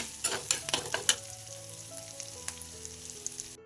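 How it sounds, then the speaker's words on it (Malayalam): Shallots, garlic, ginger, green chili and curry leaves sauté in a pan, crackling and sizzling close up with a few sharp pops early on, then easing into a steady soft fry. "നമ്മൾ വയറ്റിയെടുത്ത ചെറിയുള്ളി വെളുത്തുള്ളി ഇഞ്ചി പച്ചമുളക് കറിവേപ്പിൻ്റെ ഇതൊക്കെ നല്ലോണം വയന്ന് വന്നിട്ടുണ്ട്"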